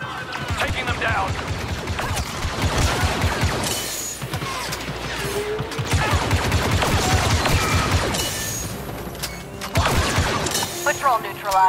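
Blaster and gunfire in a Star Wars Battlefront II campaign battle, dense bursts and rapid volleys with crashes and mechanical clatter, mixed under game voices and loud throughout.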